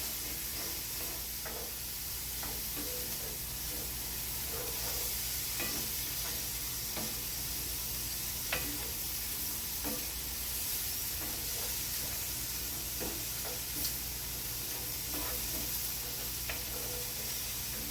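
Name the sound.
stirring ingredients in a pan for seared scallops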